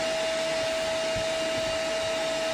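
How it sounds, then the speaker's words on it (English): A vacuum cleaner runs loud and close with a steady whine and constant airflow roar, no voices. "Goddamn vacuum trying to suck my shorts up."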